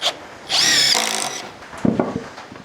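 A power drill drives screws into wood while a raised garden bed is built outdoors, one loud, close whirring burst followed by short scraping and knocking of the timber.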